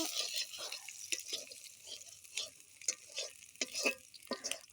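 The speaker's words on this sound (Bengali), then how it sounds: "আর পেঁয়াজ কুচিগুলোকে আমি ভালো মতো লাল লাল করে ভেজে নেব" Chopped onions being stirred and fried in a pan for homemade pasta, with soft sizzling under a run of sharp spoon scrapes and knocks at an uneven pace, fairly close and moderately quiet.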